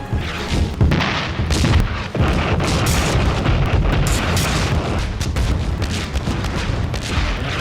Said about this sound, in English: The artillery started falling in Hoshnia.